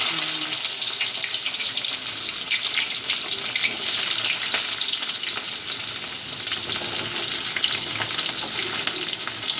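Chopped onions sizzling and frying in hot oil in a pan for an Indian-style home cooking dish, a steady broad crackling hiss throughout with occasional stirring, close and fairly loud, no talking.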